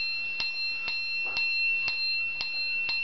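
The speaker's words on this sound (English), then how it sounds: "Show her the bell again, where it is." A small bell dings in a steady rhythm, six bright strikes about half a second apart, close and clear with a short ring after each, and no talking over it.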